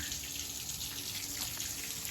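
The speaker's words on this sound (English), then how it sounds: "So we're going to let that drain for just a bit, and then we'll put the plug back in." Water draining out of a camper's water heater and low point drains during winterizing, a steady close splashing rush with constant flow and no pauses.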